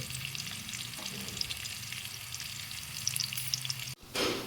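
Onion sautéing in a pan for sabudana pulao, a steady close sizzle and crackle of frying with faint stirring scrapes, continuing unbroken before a brief clatter near the end.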